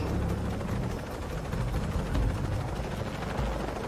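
Helicopter in the video game Shadow of the Tomb Raider, a steady broadband rotor and engine roar that holds at a constant moderate level without break, and no voices.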